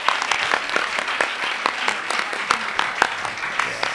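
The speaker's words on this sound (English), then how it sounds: "an applause for this lady" A crowd applauds steadily at a live Bharatanatyam arangetram dance performance in Birmingham, UK, with dense clapping throughout and a few sharper individual claps standing out.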